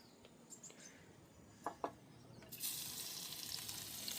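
Dal tempered in hot ghee: a few faint clinks, then a sudden loud, hissing sizzle that bursts up and carries on crackling steadily to the end.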